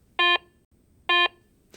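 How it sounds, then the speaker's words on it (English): A Garrett Ace 350 metal detector gives two short, buzzy, low-pitched electronic tones for an iron target in a steady rhythm, followed by a brief burst of noise at the end. "Ferrous targets, such as iron and nails, usually produce a low-pitched audio signal."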